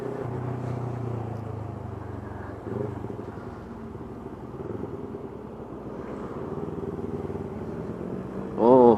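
CFMoto NK400 motorcycle ride, the steady engine drone continuous throughout and swelling briefly near the end, with wind and road noise mixed in.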